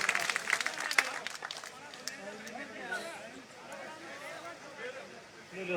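An audience applauds to welcome a former Rajasthan minister to the stage. A burst of clapping comes first, then it thins to scattered claps under crowd murmur and a speaking voice.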